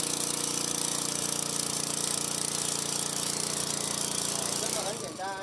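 A soil-loosening machine's engine runs at steady throttle while it breaks up soil for planting azaleas, giving a loud, continuous, rattling drone that eases off only at the very end.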